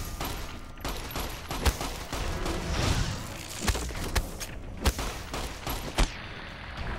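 Gunfire in Fallout New Vegas during a vault fight, a string of sharp shots and thuds at irregular intervals over a busy background of combat noise, fairly loud and without talk.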